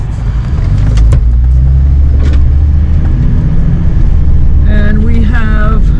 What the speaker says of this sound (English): Let's wait for that car.